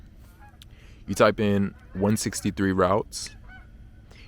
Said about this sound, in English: Excuse the birds or the swans.